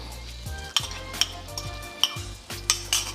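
An egg sizzles steadily in a hot greased pan for chicken fried rice while a metal utensil scrapes and clinks against the pan in repeated strokes, close and loud, with no talking.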